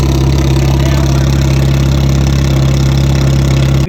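A junk-built race car idles loudly up close, its exhaust routed through a garbage can, giving a steady droning hum with buzzing, rattling reverberation and vibration, unbroken and with no talking.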